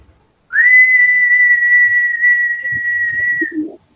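A single sustained whistled tone held steadily for about three seconds, loud and close, from children whistling during a classroom song.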